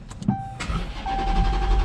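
The engine of a 2019 Dodge Charger Hellcat fitted with an E85 flex fuel kit cranks and catches after a short electric whir, then settles into a low, steady idle rumble heard up close.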